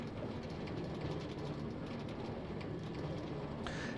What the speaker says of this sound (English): Is the sound of this trundling minecart annoying or just right?